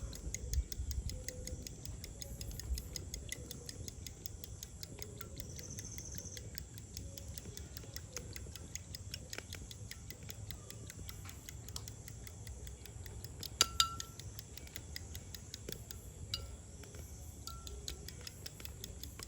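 Egg sweet mixture beaten by hand for a traditional Tamil-style muttaima, a steady rapid ticking of a utensil against the bowl repeating throughout, close and fairly quiet, with no talk.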